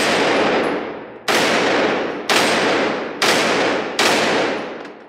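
Grand Power Stribog SP9A1 9mm carbine firing five loud, sharp shots at a steady pace of roughly one per second, each with a ringing outdoor decay and no talking.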